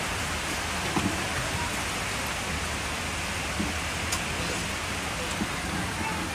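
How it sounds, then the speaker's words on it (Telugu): Steady rain falls outdoors as a dense, even hiss of drops on surfaces, moderately loud and unbroken throughout. A few faint taps and knocks sound above the wash of the downpour. "వర్షం పడుతుంది చూడండి."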